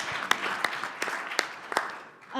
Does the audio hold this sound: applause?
yes